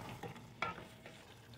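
Chicken liver and gizzards stirred in a frying pan with tomato paste for calderita: a utensil scrapes through the sizzling meat with a few close strokes, the steady frying hiss underneath.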